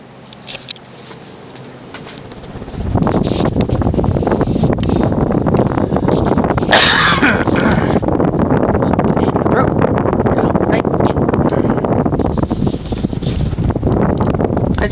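A Casablanca Capistrano 53-inch ceiling fan from around 2003 spins up to its high speed with a slight wobble, the whoosh of air suddenly rising to a loud, steady rush close by while a person talks over it.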